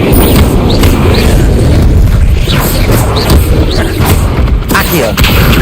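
Incendio fire spell cast in the Hogwarts Legacy video game, a loud sustained booming whoosh of flame with rumbling bursts and crackles, with a voice speaking amid the effects.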